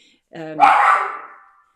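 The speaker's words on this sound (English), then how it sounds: "Now I've got Oreo barking." A single sharp dog bark, close and loud, with a short whining onset and a fading tail.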